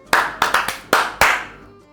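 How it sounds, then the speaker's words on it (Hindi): Several teachers clap together in a rhythmic pattern, a handful of sharp, loud claps in uneven groups with short gaps, ringing briefly in a room. "सारे टीचर्स इस एक रिदम में साथ में ताली बजाएंगे"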